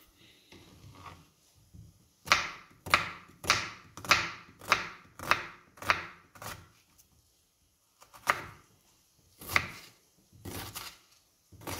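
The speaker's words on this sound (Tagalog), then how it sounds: "Tayo ay magtadtad ng ating garlic at saka onion guys." Knife chopping garlic and onion on a cutting board, a run of about nine sharp, evenly spaced chops, then a pause and a few more scattered chops, close and clear with no talking.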